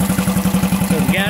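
A Mercury 3.5 hp outboard motor runs with its fuel shut off, giving a close, loud, rapid and steady putter with a faint background voice.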